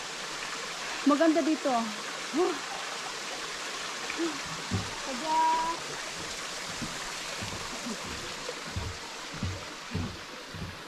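A clear mountain stream flows steadily in a soft continuous wash, fairly quiet, while people exclaim and chat over it.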